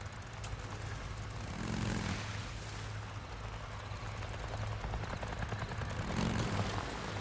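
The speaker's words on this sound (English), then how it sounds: "let's see what the heck that chopper's up to" A helicopter in the Days Gone video game on PS5, a steady broadband rotor and engine drone holding at a constant level throughout, swelling slightly at moments as if passing closer.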